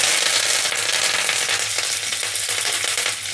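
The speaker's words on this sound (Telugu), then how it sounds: "వెల్లుల్లి, ఆవాలు, శనగపప్పు, మినపప్పు వేసాం కదా, ఫ్రై అయిపోయినాయి" Garlic, mustard seeds, chana dal and urad dal sizzle steadily in hot oil as a close, continuous crackling fry, with faint stirring clinks and no talking.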